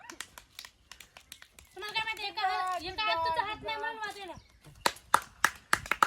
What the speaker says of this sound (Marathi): टाळ्या वाजवा टाळ्या